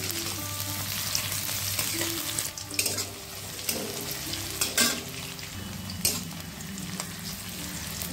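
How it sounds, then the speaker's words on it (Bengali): Chopped onion fries in oil with whole cloves, cardamom, cinnamon and peppercorns, a steady close sizzle broken by several scraping stirs of the spatula, with a low hum running underneath. "পেঁয়াজ কুচিটাকে 1 মিনিট একটু ভেজে নিলাম।"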